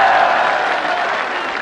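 Loud, steady applause from a large crowd at an Imran Khan PTI political rally (jalsa) in Mianwali, a continuous wash of clapping for under two seconds with no pause.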